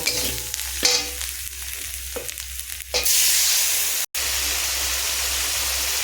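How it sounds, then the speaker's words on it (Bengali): A spice paste for an egg and cauliflower curry is worked in a pan with a few scrapes and clatters, then water goes in and the pan erupts into a loud, rushing sizzle that continues after a brief dropout, with no voices. "জল দিয়ে মশলাটাকে আমি সুন্দর করে কষিয়ে নেব"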